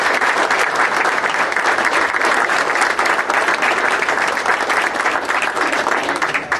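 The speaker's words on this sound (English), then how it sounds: "I would like to offer them a round of applause." Sustained applause from an audience of New Hampshire House members and guests at a state budget address, dense steady clapping filling the room at an even level for several seconds with no voices over it.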